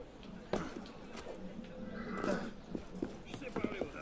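Horse-drawn carriage in Assassin's Creed Unity clip-clops past with steady hoofbeats and a brief whinny, heard under a speaking voice and street ambience.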